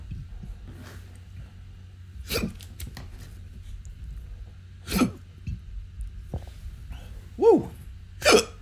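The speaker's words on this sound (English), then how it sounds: "there's the hiccups" A man hiccups repeatedly, four or five sharp isolated jolts spread several seconds apart with quiet stretches between them, close to the microphone and with no talk.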